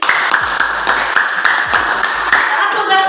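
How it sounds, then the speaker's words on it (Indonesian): Applause and rhythmic hand clapping from a group at a school coaching session, steady and fairly loud, with voices mixed in underneath. "Tepuk tangan buat Selin."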